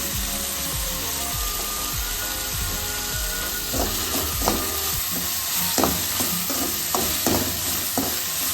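Tomatoes with a pinch of turmeric fry in a pan, a dense continuous sizzle with repeated scraping stirs and spatula knocks growing more frequent toward the end.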